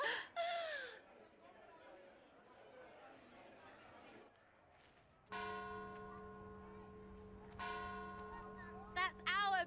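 Bells ringing in Dragon Age: Inquisition Trespasser, a loud resonant peal entering midway and struck again, following a stretch of quieter chatter and a brief voice at the start.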